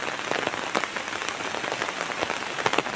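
Steady rain patters on surfaces in the countryside during the rainy season, a dense continuous hiss with scattered louder drops close by, no voices.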